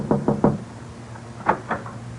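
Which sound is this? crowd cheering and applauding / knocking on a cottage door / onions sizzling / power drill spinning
knocking on a cottage door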